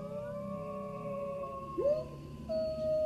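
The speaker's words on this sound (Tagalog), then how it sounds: "Ang lalakas ng alulong ng aso?" Dogs howl loudly in a remote rural village at night, long sustained wavering tones that overlap and rise, with no voices over them.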